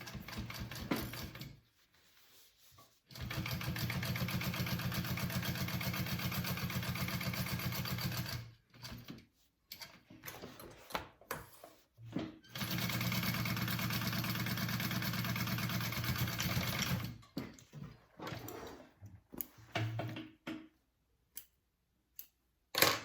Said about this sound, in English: I'm also just going to backstitch